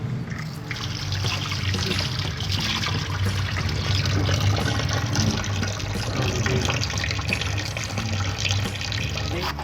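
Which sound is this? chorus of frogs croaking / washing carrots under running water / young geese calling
washing carrots under running water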